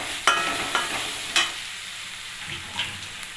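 Turmeric being stirred into pasta in a pan at home, a utensil scraping in a few distinct strokes over a low background sizzle.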